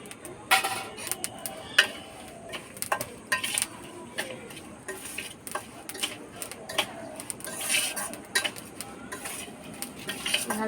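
Hands or a spoon mixing spices such as Kashmiri chilli powder and turmeric for a sour-spicy mango pickle, giving irregular close clinks, scrapes and taps of metal against a bowl throughout.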